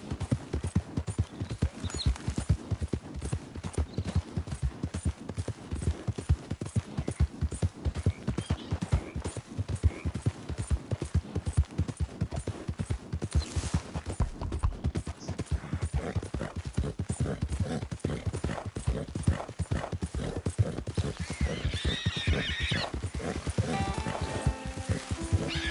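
A horse gallops in Red Dead Redemption 2, rapid rhythmic hoofbeats pounding steadily and close for the whole stretch, with a brief whinny-like sound and faint game ambience near the end.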